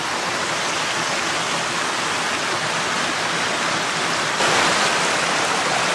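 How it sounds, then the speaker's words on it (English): Swift stream water rushing down a rocky run by an old gold mine, a loud, steady, close broadband roar that grows slightly louder near the end. "The water comes so swiftly down from here."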